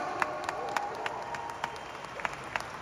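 Steady applause from a crowd, many hands clapping together at a moderate distance, with a few sharper claps standing out.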